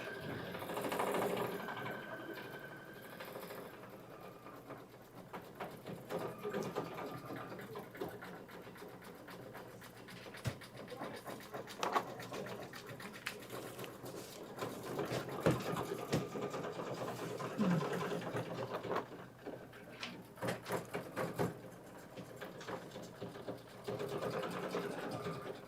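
A Kimberbell embroidery machine stitches decorative outlines on a design with a steady, fairly faint mechanical whirr and rapid needle chatter that keeps going throughout.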